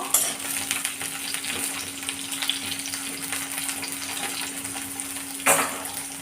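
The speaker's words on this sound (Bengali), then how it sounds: "পেঁপেটা একটু নেড়ে ছেড়ে নেব" Chunks of papaya frying in hot oil for Bengali shukto, a steady dense sizzle filling the pan with occasional scraping stirs, one sharper clatter near the end; no talking.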